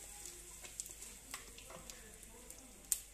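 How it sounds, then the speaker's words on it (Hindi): Cumin and asafoetida sizzling in hot oil for a dry potato and aubergine dish, a faint crackling sizzle with scattered small pops and ticks, quiet and close, with a voice talking intermittently over it. "थोड़ा सा जीरा डालती हूँ, बिल्कुल थोड़ी सी मैं हींग डाल रही हूँ"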